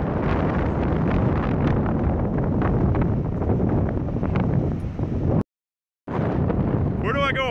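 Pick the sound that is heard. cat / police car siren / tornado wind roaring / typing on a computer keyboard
tornado wind roaring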